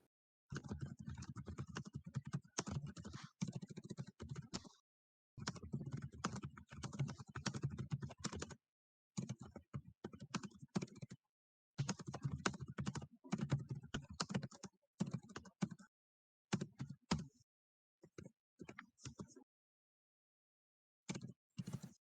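Rapid keyboard typing in bursts of clicking separated by short pauses, close and fairly quiet, with no talking.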